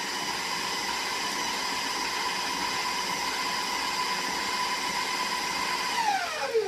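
Electric mixer beating banana bread batter at a higher speed gives a steady motor whine with a bright buzzing tone that holds evenly, then drops in pitch as it slows near the end.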